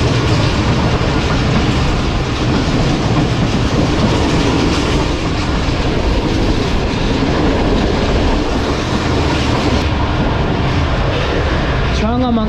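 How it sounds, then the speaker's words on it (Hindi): Allama Iqbal Express passenger train running through the Changa Manga forest area, a loud steady rumble of wheels on rail with rhythmic clatter throughout and a brief squeal near the end, with talk over it. "अलामा इकबाल एक्सप्रेस इस वक्त छांगा मांगा जंगल के एरिया से गुजर रही है"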